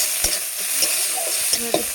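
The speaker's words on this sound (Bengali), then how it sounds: "এদিকে এই যে পেঁয়াজও ভাজা হয়ে গেছে।" Onions sizzle in a hot pan as a spatula stirs them in a few sharp scraping strokes, close and fairly loud, with no talk.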